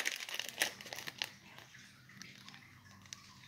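A wax melt cup is pushed out of its plastic packaging, giving close, soft crinkling and crackling of thin plastic that is busier at first and then fades to faint handling.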